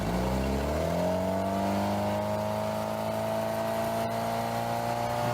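A newly rebuilt Mercury 3-litre boat engine, tuned with 30 extra horsepower and a cone intake, revs steadily and loudly up close, its droning tone climbing then holding high with no voices over it.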